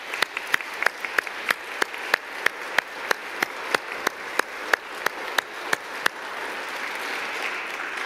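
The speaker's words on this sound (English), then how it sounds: "Let's give them another round of applause." Audience applause for the Kettering Praise Orchestra at a Celtic-themed concert: evenly spaced, crisp claps stand out over a soft crowd wash, then the clapping thins into a low murmur near the end.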